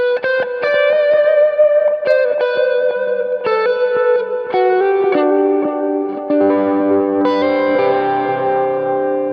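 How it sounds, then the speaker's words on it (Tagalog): Amp-less rig guitar playing a solo drenched in heavy delay and reverb, sustained notes ringing into long repeating echoes that stack into a dense ambient wash, loud and alone. "sa solo number 2 naman is mas matapang yung delay and reverb niya."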